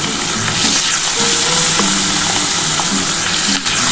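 Pieces of rohu fish fry in oil in a pan, making a loud, dense, continuous sizzle up close with occasional scraping and bubbling, and no talking.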